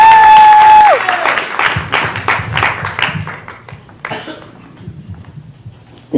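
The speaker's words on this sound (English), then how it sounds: "put your hands together for Miss Morgan McCoy" Audience applause for a performer named Morgan McCoy at a charity fundraiser talent show, a steady wash of clapping that starts strong and slowly thins, opening under a sustained tone and with some talk mixed in.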